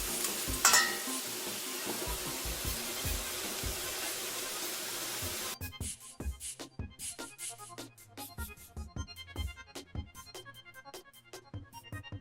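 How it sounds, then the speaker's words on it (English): Bony lamb pieces fry in a pot, first with a steady loud sizzle, then with a spoon stirring the meat in a run of sharp scraping clinks over a quieter hiss. "Wait 1 minute again and stir."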